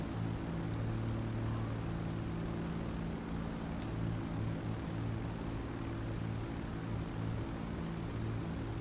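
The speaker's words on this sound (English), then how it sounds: "Congratulations, you've landed a giant plane." Giant airliner landing in the GTA video game, a steady droning engine roar with layered low hums, constant and fairly loud throughout with no talk.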